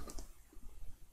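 A Tab key is pressed on a computer keyboard, giving a couple of faint, quick plastic clicks against a quiet room.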